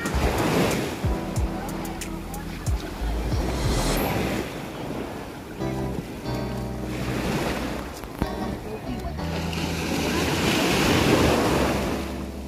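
Rough surf at Cagwait Beach in Surigao del Sur rolls in as a broad, continuous roar of breaking waves, close and loud, with wind buffeting the microphone and swelling surges toward the end.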